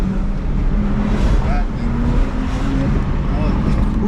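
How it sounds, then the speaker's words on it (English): Porsche all-wheel-drive car with a Stage 2 tune accelerating hard through a corner, its engine droning loud and steady throughout, with a broad rumbling roar and no speech. "when you in a corner like this and you giving it gas, you feel like you at the limit"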